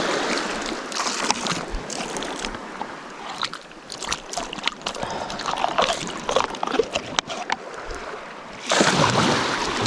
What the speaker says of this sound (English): Make sure we give this thing a good rinse out.